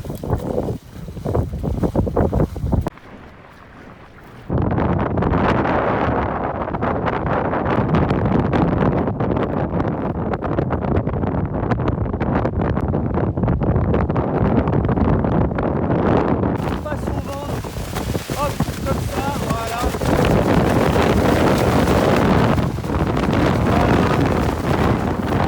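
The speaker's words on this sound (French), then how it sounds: "La petite marche d'approche dans un vent bien soutenu." Strong, gusty wind roars across the microphone on a kitesurf spot, loud and rough from start to end, dropping briefly early on before surging back with heavy buffeting.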